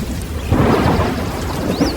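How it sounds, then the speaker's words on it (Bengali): A heavy sudden downpour pours over open village ground while thunder rumbles, a dense, steady roar of rain with a low rolling boom swelling midway, with no voices. "মুহূর্তের মধ্যেই ঝমঝম করে বৃষ্টি নেমে এলো"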